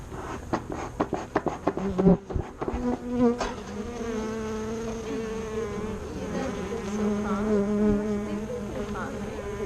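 Honey bees buzz close by around their hive in a steady drone, with a few sharp knocks and rustles early on as the hive is put back together, then the humming continues on its own.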